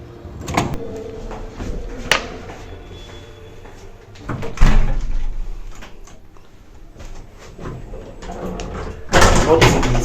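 Swing doors of a lift in the Hippocrate section on Kos island open and shut with several close, loud clunks and bangs spread across the clip, the heaviest near the middle and end, while people talk in the background.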